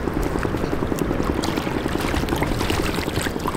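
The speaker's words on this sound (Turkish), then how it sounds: "Ellerimi temizliyorum arkadaşlar." Water pours steadily over hands being rinsed outdoors, a loud continuous splashing rush up close that stays constant throughout.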